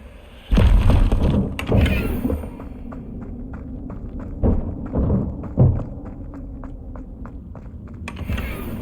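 Confringo spell effect in the video game Hogwarts Legacy on PlayStation 4 Pro: a loud burst with heavy low thuds, followed by a run of rhythmic soft ticks and another booming impact, with no talking.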